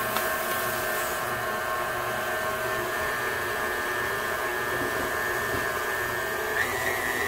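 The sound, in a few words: stand mixer mixing pizza dough on 2nd speed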